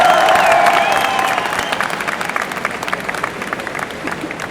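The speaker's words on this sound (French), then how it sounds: "je pense qu'on peut encore lui faire un tonnerre d'applaudissements pour Shivana" A crowd at a cosplay contest during an e-sport event in Lyon applauds loudly, with dense clapping and some cheering that gradually thins out and fades over several seconds.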